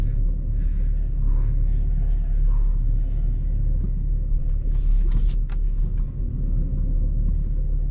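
A 2011 Saab 9-5 engine idles steadily with a low, even rumble, close by and constant throughout, with faint clicks and rattles on top.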